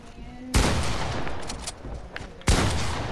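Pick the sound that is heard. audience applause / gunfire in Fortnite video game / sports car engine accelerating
gunfire in Fortnite video game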